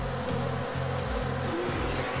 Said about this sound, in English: Taking the honey from the bees.